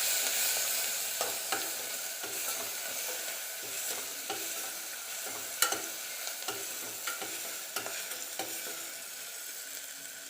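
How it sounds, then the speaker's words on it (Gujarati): Vegetables and tomatoes are stirred together in a sizzling pan for kadhi khichdi, with a continuous frying hiss broken by scattered scrapes and clacks of the spoon against the pan, close and without any talking. "બધા શાકભાજીને મિક્સ કરી લઈએ."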